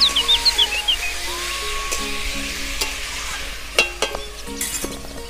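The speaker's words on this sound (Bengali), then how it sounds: "দিয়ে দেবো সেদ্ধ করা কচু শাক। দিয়ে নেড়ে চেড়ে দেবো।" Boiled taro leaves are stirred as they fry in a pan, giving a soft, continuous sizzle broken by scraping strokes of the spatula, with a few sharper clinks toward the end.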